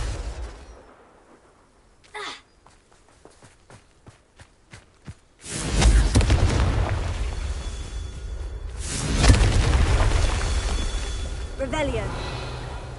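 In the Hogwarts Legacy video game, a Confringo spell lets off a heavy booming explosion after a series of soft footsteps, followed by a rumbling roar and a second burst.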